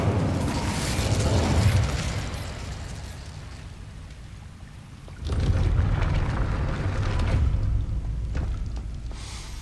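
A fire spell, Incendio, cast in Hogwarts Legacy: a loud, roaring whoosh of flame that fades, then a second heavy fiery burst surges about halfway through and sustains to the end.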